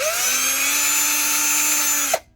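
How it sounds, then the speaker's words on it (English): Power drill running steadily as it enlarges a hole, a loud constant whine held for about two seconds before the motor stops abruptly and winds down. "Can just hitting it with the drill a bunch more times make any sort of difference?"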